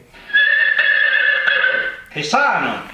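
A horse gives a loud, sustained neigh, then a rising, shaky whinny near the end, close and clear with no talking over it.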